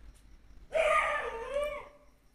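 A single dog lets out a drawn-out howl on a cold winter night, one mid-distance wavering cry that rises and fades over about a second, with faint background hum.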